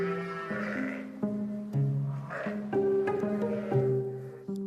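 A ewe in a lambing pen bleats repeatedly and loudly up close, with drawn-out, wavering calls in quick succession.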